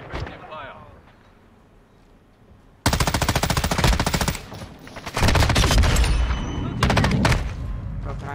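Loud automatic gunfire roars in close, rapid bursts during a Call of Duty Modern Warfare match, with a quieter stretch before the shooting starts and voices shouting over the battle.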